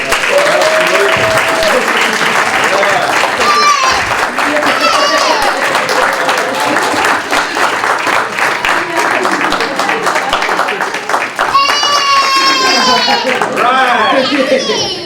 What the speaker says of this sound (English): So if you guys would give them another round of applause.